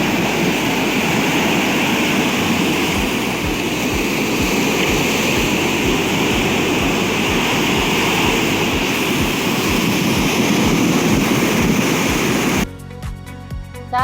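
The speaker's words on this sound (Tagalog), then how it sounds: "Pakinggan nyo ang tunog ng dagat." Continuous roar of sea waves and surf washing in steadily, loud and close, with no voices, ending with a short cut near the close.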